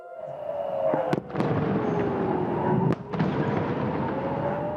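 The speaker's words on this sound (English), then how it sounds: "we watched a heavy barrage of rockets flying in from Gaza" Rocket barrage fired from Gaza over Tel Aviv at night, intercepted by Israel's anti-missile system: a continuous roaring rumble with a few sharp, loud blasts and booms cutting through, heard from a distance.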